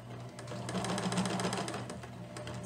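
Sewing machine stitching a Vogue 9057 garment, its steady, fast mechanical whir running close and loud through the whole stretch with no pauses.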